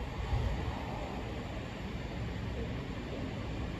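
A British Rail Class 707 electric multiple unit passing through Lee station, giving a steady, fairly loud rumble of wheels and traction noise that holds throughout with no speech.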